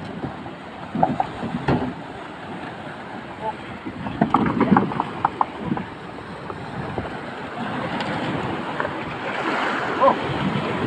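Strong ocean waves around a small fishing boat at sea, a loud rushing wash with wind buffeting the microphone, and someone speaking briefly over it.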